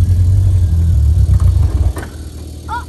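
A Honda S2000 engine idles with a loud, low rumble that falters and drops away as the car stalls, and a faint voice is heard near the end.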